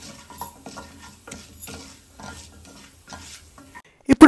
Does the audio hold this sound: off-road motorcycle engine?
no